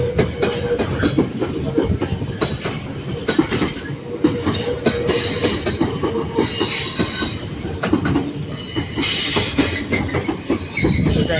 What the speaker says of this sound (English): I'm just listening to the noise of the freight.